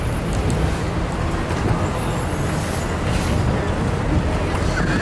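Steady street traffic rumbles around a San Francisco tour bus, a dense continuous wash of engine and road noise with a hiss of air brakes, fairly loud and unbroken throughout.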